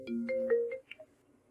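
A phone ringtone for an incoming call plays a short melodic tone sequence, clear and close, ending in a couple of higher chimes before fading.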